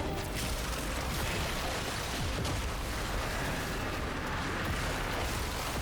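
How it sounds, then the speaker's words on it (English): Dense, continuous rumbling explosions and blasts in the video game Warframe, with booming bursts layered over a constant noisy roar, loud and chaotic like a battle. "Oh wow, these explosions, man."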